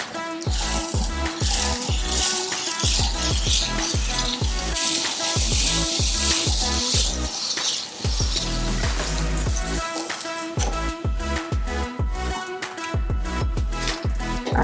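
A Pampered Chef apple peeler corer slicer working through an apple, its crank producing a steady run of quick clicking ratchet ticks with wet crunching slices, close and loud, with no talking.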